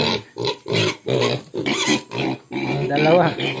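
Backyard pet pigs grunt in quick, close bursts, a string of rough snorting calls with short gaps between them.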